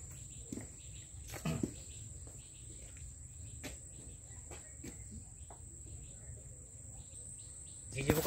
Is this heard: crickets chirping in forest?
yes